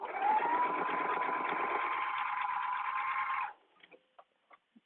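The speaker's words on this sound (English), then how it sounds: "So I'm stitching the one folded edge just closed here." A sewing machine stitches a folded fabric edge closed on a day date dress, running as one steady close hum for about three and a half seconds before stopping, followed by a few soft clicks and handling sounds.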